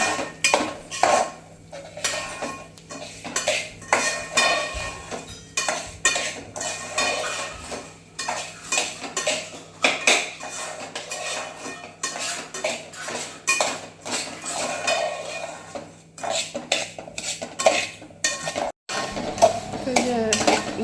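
A spoon scrapes and clinks steadily around a pan as semolina (rava) is stirred into hot ghee for a sweet rice dish, with a faint hum underneath and a sudden cut near the end.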